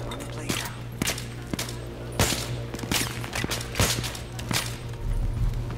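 Scattered gunshots crack out in the Battlefield 3 campaign, several sharp reports at irregular intervals over a low steady hum, with talking mixed in.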